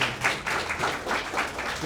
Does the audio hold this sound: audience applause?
yes